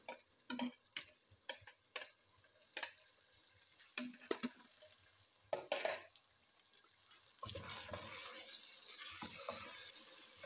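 Potatoes, fenugreek and peas are stirred in a pan, giving scattered clattering scrapes and taps. A steady sizzle of frying sets in and continues for the last few seconds.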